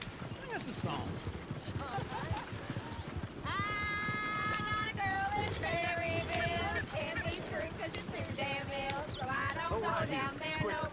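Horse hooves clop at a gallop in the Western video game Red Dead Redemption, a rapid rhythmic beat mixed with a whinny and singing voices over the top.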